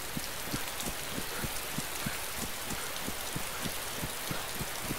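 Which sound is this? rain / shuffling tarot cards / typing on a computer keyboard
rain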